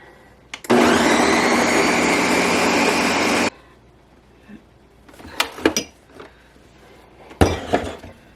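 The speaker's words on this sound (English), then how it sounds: "we're just going to blend that for a bit until it's nice and smooth" A blender roars loudly for about three seconds blending a bean mixture for vegan hot dogs, then cuts off, followed by clinks and clatter of dishes and utensils nearby.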